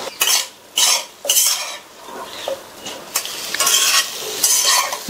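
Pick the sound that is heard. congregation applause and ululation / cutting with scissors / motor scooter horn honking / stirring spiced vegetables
stirring spiced vegetables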